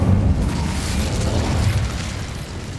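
A fiery Incendio spell blast in Hogwarts Legacy, a loud booming burst at the start that rumbles on and slowly fades, with no voices.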